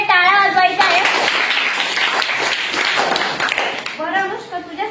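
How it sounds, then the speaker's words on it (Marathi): Schoolchildren applaud a correct quiz answer at a primary school, a burst of dense clapping that fills most of the clip between brief stretches of someone talking at the start and end. "अनुष्कासाठी सगळ्यांनी टाळ्या वाजवायच्या आहेत"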